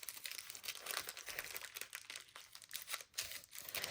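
Coffee-dyed coffee filter paper folded in half and in half again by hand, a steady close crinkling and crumpling of thin paper that runs for the whole stretch and is heard on its own.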